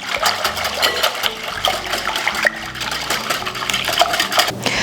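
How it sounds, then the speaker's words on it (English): Egg yolks are whisked into a thin custard base for Portuguese custard tarts, a close, continuous run of quick metallic clinks and sloshing against the bowl with no voices. "we're gonna add in the egg yolks one at a time and whisk them in to fully emulsify it"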